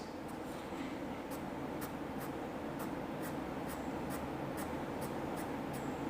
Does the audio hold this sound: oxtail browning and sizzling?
no